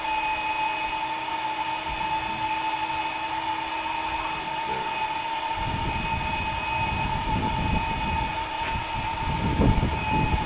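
A steady, loud mechanical hum with a whirring fan roar from a barrel cooler fan plays continuously, with some low rumbling in the second half.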